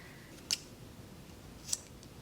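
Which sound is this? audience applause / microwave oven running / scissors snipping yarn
scissors snipping yarn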